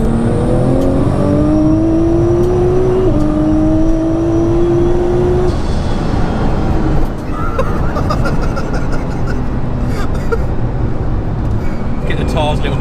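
A tuned 1100 bhp Nissan GT-R revs and pulls hard, its loud engine note climbing in repeated rising sweeps before settling into a steady roar, with voices talking over it.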